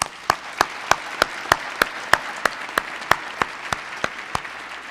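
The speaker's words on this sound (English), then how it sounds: "let's clap them one more time" At an awards ceremony, hands clap in a steady, evenly spaced rhythm of about three beats per second, crisp and fairly close over a soft room murmur.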